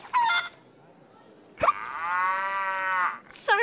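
A cartoon cow-like moo sounds as a long, strongly pitched, drawn-out tone lasting over a second, bracketed by short bursts of cartoon dialogue and a brief plop at its start.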